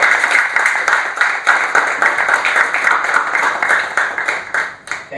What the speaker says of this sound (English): please join me with big round of applause to welcome Zubin Todiwala